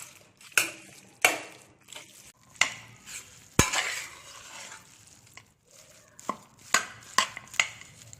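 Asafoetida tempering is mixed into soft cooked rice for hotel-style ven pongal, heard as a series of distinct spoon scrapes and knocks against the pot over a faint background sizzle.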